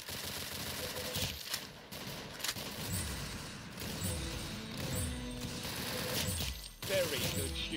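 In the Arsenal video game, rapid bursts of gunfire and sharp shots crackle amid clattering weapon mechanisms and game sound effects, with a voice speaking in between.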